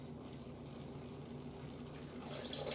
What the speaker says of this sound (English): now add 2 cups of cold water